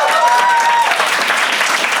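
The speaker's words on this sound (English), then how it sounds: "Applause." A studio audience claps at a comedy panel show, a dense, even burst of applause sustained for a couple of seconds at close range, with a voice briefly heard over it.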